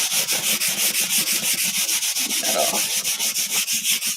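Rhythmic back-and-forth rasping of a sanding pad rubbing red paint off a surface, steady and close with regular strokes, a few soft words spoken briefly.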